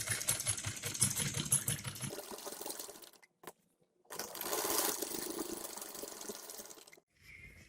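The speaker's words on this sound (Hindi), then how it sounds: "ये हम आसन की सिलाई लगा रहे हैं दूसरी साइड के आसन को" Sewing machine stitching the seat seam of a designer embroidered trouser in rapid whirring runs: a long burst, a brief pause, a second long burst, then a short restart, with no talking.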